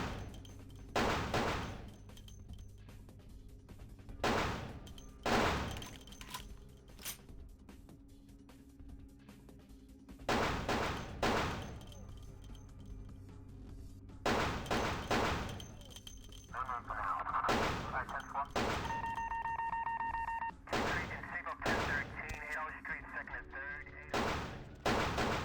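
Gunfire in the video game Vampire: The Masquerade - Bloodlines, with loud, close bursts of shots that stop and start across the stretch. Electronic tones sound in between, and there is a little talk.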